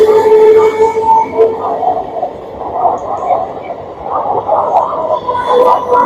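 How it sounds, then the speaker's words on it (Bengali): A mail express train pulls into quiet Madhusudanpur station, giving a loud, steady rumble with sustained humming tones that swell and ease throughout, and no speech over it. "আর অন্যদিকে আসছে মেল এক্সপ্রেস ট্রেন।"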